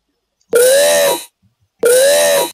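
Two loud, strained vocal screams used as a music fill, each under a second long, separated by a short silence.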